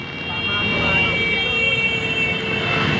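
A fire truck siren wails steadily in the distance, a long rising and falling tone over a dense rumble of traffic and background noise, responding to a restaurant fire on Acacia Lane, Mandaluyong.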